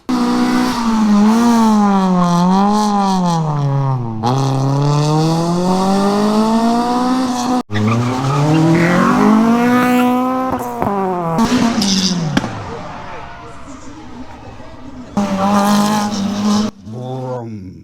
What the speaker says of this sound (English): So here's some cars going vroom.